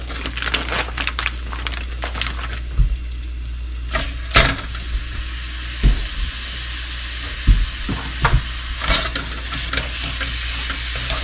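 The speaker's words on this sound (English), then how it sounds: "My butter is melted. I will put in my hamburger meat in here." Hamburger meat sizzles steadily in melted butter in a pan, with intermittent sharp clinks and scraping stirs of a utensil over the constant frying hiss.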